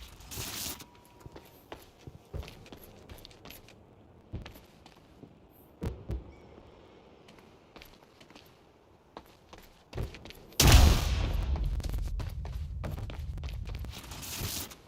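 Quantum Break: a cannon fires with a sudden heavy boom late in the clip that rumbles off, after quiet stretches of scattered thuds and footsteps.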